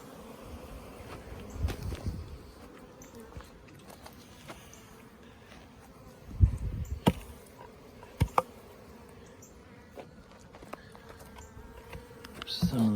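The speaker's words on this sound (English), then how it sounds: "still a few bees in here" Honeybees from a caught swarm buzzing faintly around a rehived colony, a soft hum with scattered louder close passes and light knocks, no talk.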